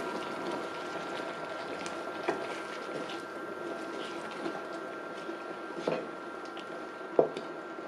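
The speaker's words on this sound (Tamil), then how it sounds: "நல்லா மிக்ஸ் பண்ணிட்டு 5 நிமிஷம் நல்லா கொதிக்க விடுங்க" A paneer and peas curry simmers in a pan, giving a soft, steady bubbling hiss with a few faint pops and sputters over several seconds, heard close with no talking.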